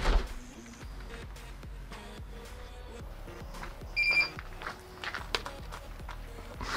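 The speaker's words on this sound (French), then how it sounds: "vous avez dû entendre un bip" A short, high electronic beep from an ANNKE WL400 WiFi surveillance kit alarm sounds once outdoors amid footsteps and handling noises nearby.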